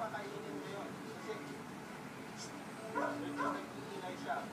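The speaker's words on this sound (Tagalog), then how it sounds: "Papansin ninyo, siya yung tahol ng tahol." A mixed-breed Aspin dog yips and barks repeatedly in short bursts at low volume, its calls mixed with nearby talking.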